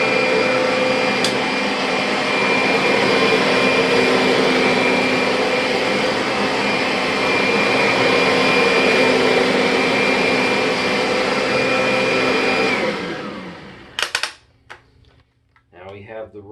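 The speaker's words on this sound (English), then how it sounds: "We'll go ahead and do the Kirby first." A Kirby vacuum cleaner runs steadily on medium-pile Mohawk carpet, with its nozzle set to position 3. The motor is loud and close and drones for about thirteen seconds before shutting off and winding down, followed by a few clicks and brief speech.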